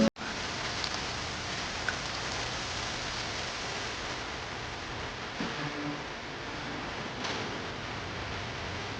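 Light rain falls as a soft, even hiss that runs steadily from start to finish, with no voices and only a few faint ticks.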